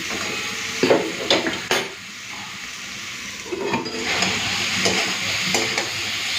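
Soybean chunks frying with potato and pointed gourd sizzle steadily in the pan, with a few sharp clatters and stirring scrapes early on, then a smoother, louder sizzle.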